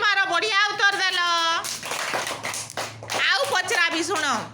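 Young children at a preschool lesson clap their hands in a short burst of loud taps after someone speaks to them in a sing-song voice, with her talk continuing over the clapping.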